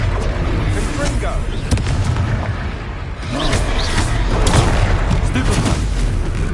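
Confringo fire-spell explosions in Hogwarts Legacy, a loud, dense combat scene of booming blasts and crackling impacts that swells near the end, with characters shouting over it.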